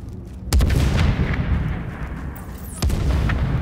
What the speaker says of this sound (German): Da vorne wird geschossen und schreit jemand.